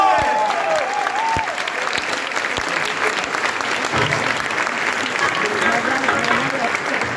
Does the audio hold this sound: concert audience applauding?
yes